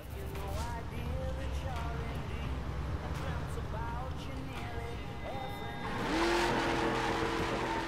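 A performance-spec 1969 Camaro driving through downtown New York in The Crew, its engine giving a steady, close drone that surges louder with rising revs near the end.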